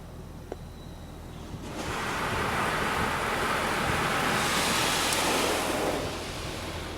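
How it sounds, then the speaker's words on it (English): At Rick's C-Wash in Lake Ozark, Missouri, clear coat sprays from overhead jets in an automatic car wash, a loud, steady rushing hiss that swells in and holds close, heard from inside the car without any voices. "It's intending to spray it from the top."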